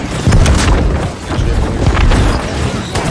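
Turrets and a cannon in New World pounding a capture point, a dense, heavy stream of booming blasts and rumble that continues without pause, loud and close.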